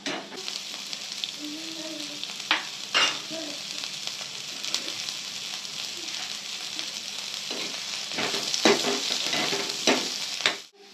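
Large-cut onions sautéing in a pan for kadai paneer masala paste give a continuous soft sizzle. Occasional stirring scrapes come through, growing a little busier and louder toward the end.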